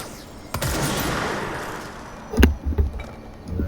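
Gunfire in the video game Control: one crisp shot rings out, then after a pause a cluster of louder, heavier bangs lands in quick succession before fading.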